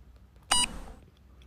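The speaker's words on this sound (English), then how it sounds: "When the treatment is finished, you'll hear a beep." A single short electronic beep from a cold laser wrist device as treatment finishes, with bright harmonic tones, quick and clear against a quiet background, fading out after a fraction of a second.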